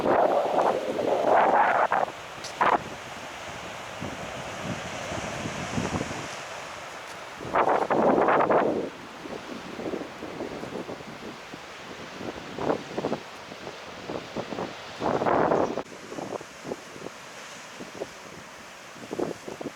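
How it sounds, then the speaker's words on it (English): Sea waves break on the shore in Cyprus with gusty wind buffeting the microphone, a steady rushing roar swelling into louder surges every few seconds. "Just seeing these waves breaking."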